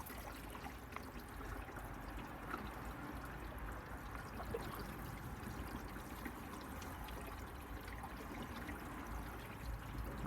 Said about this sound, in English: he's just going to put some water on the outside, just simulating that it's raining